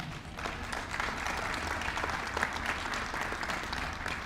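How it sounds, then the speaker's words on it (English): An audience at an Essex County Freeholder meeting claps steadily, a dense, even wash of applause filling the room for several seconds. "You can clap for that."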